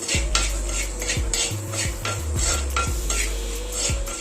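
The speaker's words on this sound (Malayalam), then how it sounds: "കായപ്പൊടി, ഉപ്പ് എന്നിട്ട് ഇളക്കി കൊടുക്കാം." Metal spoon stirring turmeric, salt and asafoetida into sautéed curry leaves in a pan, with repeated scraping clinks in an uneven rhythm over a soft sizzle, close and fairly quiet.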